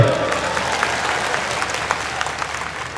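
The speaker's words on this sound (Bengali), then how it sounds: "ওর জন্য এটা করে তালি দাও জোরে" A school audience bursts into loud, sustained clapping for a student who wants to become a businessman, a dense wash of hand claps filling the whole stretch with a few sharper claps standing out.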